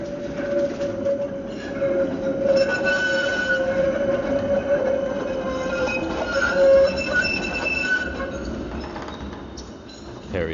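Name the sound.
tram passing by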